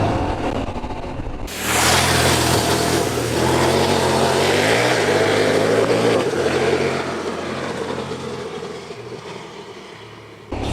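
A CFMOTO 800MT-X adventure motorcycle rides off-road on powdery ground, its parallel-twin engine pulling smoothly under heavy wind rush that starts suddenly and stays loud, easing off near the end.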